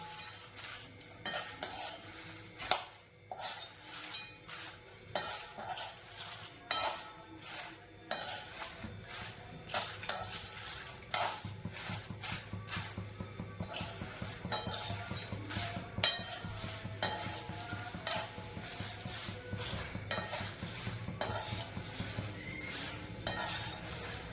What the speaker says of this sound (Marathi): मिरचीला सुद्धा चांगलं खरपूस भाजून घ्यायचं आहे